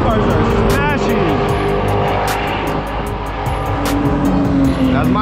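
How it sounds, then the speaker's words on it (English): Race cars roar past on the Laguna Seca track in a steady, loud wash of engine noise with rising and falling pitch as they pass, and voices can be heard in the background. "these cars are smashing"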